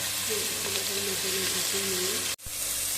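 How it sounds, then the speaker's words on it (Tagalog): Beef sizzling in hot oil as it fries to golden brown, a constant close crackling hiss with someone speaking over it and a brief break near the end. "I-fry na lang ng golden brown."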